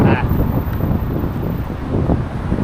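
Strong wind buffets a microphone beside a busy road in a city, a steady loud low rumble with gusts throughout and no clear talk.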